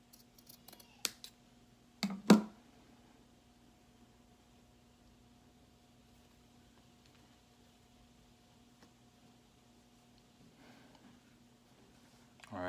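Scissors cut through a sock to make a face mask. A few faint snips come close together near the start, followed by a long, near-silent stretch in a quiet room.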